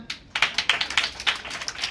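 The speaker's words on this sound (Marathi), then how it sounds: "तुमचं टाळ्या वाजवा एकदा" Children at a school girls' day event clap together in a quick, uneven burst of crisp, close claps that lasts about two seconds.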